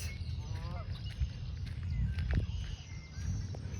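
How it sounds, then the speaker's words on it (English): Geese honk softly and intermittently at a spring pond shared with swans and ducks, faint and somewhat distant, with occasional footsteps and light background chatter. "There's baby geese and swans and ducks."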